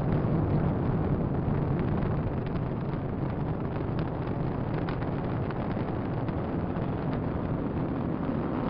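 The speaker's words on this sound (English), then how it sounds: "Liftoff of the SpaceX Falcon 9 rocket, launching Dragon to the International Space Station" SpaceX Falcon 9 rocket lifting off to send a Dragon cargo capsule to the International Space Station, a steady, dense broadband roar with wind-buffeted rumble that holds loud and constant throughout, with no voices.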